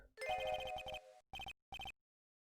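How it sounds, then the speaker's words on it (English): A Discord call ringtone chimes in quick repeated tonal bursts, first a dense run of notes, then two short separate bursts after pauses, clear and fairly quiet with no talk. "It's like Discord keeps ringing."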